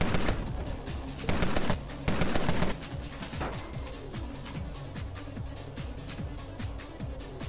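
Gunfire from the vehicular combat game Road Redemption: dense bursts of rapid shots with loud clustered volleys in the first few seconds, then a steady busy stream of smaller pops and engine-like tones continuing throughout.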